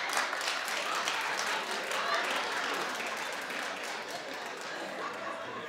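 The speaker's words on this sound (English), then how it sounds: "Clap if that's you, be honest." Television studio audience clapping, a dense continuous wash of applause with faint laughter and chatter mixed in, steady and full throughout.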